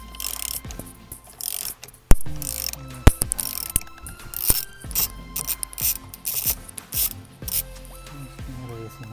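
A ratchet wrench clicks rapidly as a nut is torqued on a 2017 Nissan Pathfinder during steering wheel work, close and loud, coming in bursts of fast pawl clicks with short pauses and clunks between them.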